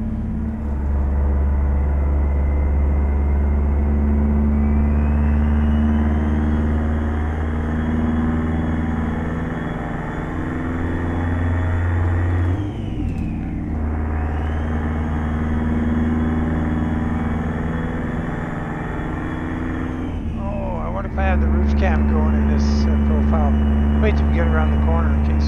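Kenworth K100 truck with a two-stroke engine in American Truck Simulator, a steady busy, rapid-firing drone that runs continuously, dips briefly midway and near the end, then resumes, with someone talking over it throughout.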